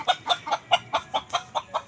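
Chickens on a chicken farm clucking in a quick, regular series of about nine sharp calls, close and clear with little else around.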